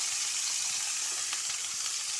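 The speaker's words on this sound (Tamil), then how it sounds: "இப்போ நம்ம இதெல்லாம் கொட்டி வதக்கிக்கலாம்" Onion, tomato, coconut, green chili, ginger, garlic, cinnamon, cloves and leaves sauté in a pan with coriander powder, chili powder and salt: a steady close sizzle and crackle of frying with faint stirring scrapes, no talking.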